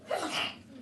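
A single quick human sneeze in a Texas House Natural Resources committee hearing room, brief and moderately faint, with no talk over it.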